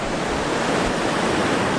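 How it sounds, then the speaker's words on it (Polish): Ocean waves breaking on a wide beach at Ilhéus, Bahia, Brazil: a loud, continuous surf roar with a constant rush of wash and some wind buffeting, no voices. "Dużo fal"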